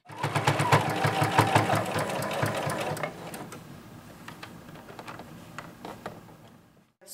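A sewing machine stitches the neckline of a homemade skater dress in a fast, steady rhythmic burst for about three seconds, then stops, leaving quieter handling clicks and rustles.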